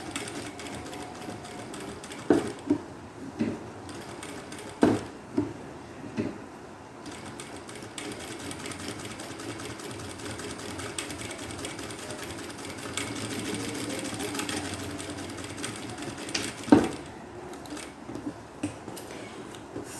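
Sewing machine running in bursts while stitching the curved lapel seam of a crossbody bag, with short whirring runs, pauses and soft handling clicks, fairly quiet and close.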